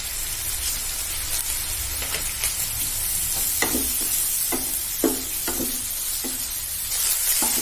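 Onions and tomatoes sizzle steadily in a pan over a high gas flame, a continuous frying hiss with occasional soft stirring clicks and scrapes throughout, close and alone with no talking.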